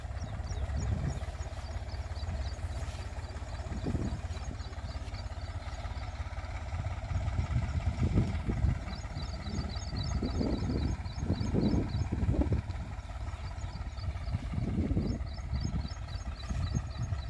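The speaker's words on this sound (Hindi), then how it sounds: "स्वराज 735 ट्रैक्टर से मिट्टी चढ़ा रहे हैं" A Swaraj 735 FE tractor earths up a sugarcane field planted at 30-inch spacing, its engine a steady low diesel drone with a faint rattle and occasional louder pulses, outdoors with some wind.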